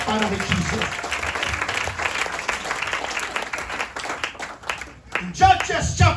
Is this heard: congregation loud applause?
yes